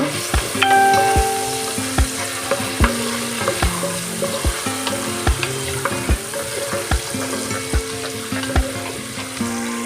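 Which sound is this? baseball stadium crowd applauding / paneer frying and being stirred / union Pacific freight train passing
paneer frying and being stirred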